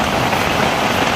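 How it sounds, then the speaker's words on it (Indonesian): Heavy rain pours down at a jungle campsite, a dense, loud, unbroken hiss with no voices over it. "Sudah banjir, airnya hujan cukup deras."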